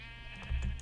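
Sheep in the Minecraft video game bleating, with one short bleat rising over a low background hum.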